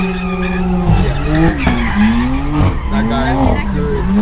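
A car drifting at a gymkhana event: loud, sustained tire squeal with wavering pitch over a revving engine, heard up close while people talk.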